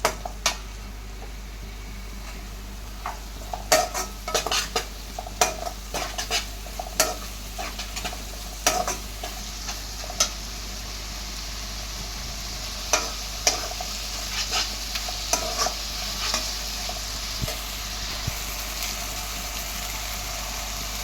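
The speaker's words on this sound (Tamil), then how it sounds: "இப்போ இஞ்சி பூண்டு பேஸ்ட் போட்டாச்சு. இது நல்லா வதங்கட்டும்." Ginger garlic paste sizzles steadily in a hot pan, with the scrape and clack of a spoon stirring now and then. No one speaks.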